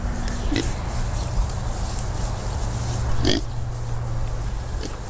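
A small pig grunts and snuffles nearby while drinking water, over steady low background noise, with a couple of short sharper sounds.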